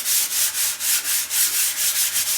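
A sanding block rubs steadily back and forth across an indoor wall being prepped for glass fiber wallcovering, a loud, close, rhythmic rasp of about ten even strokes with no voices.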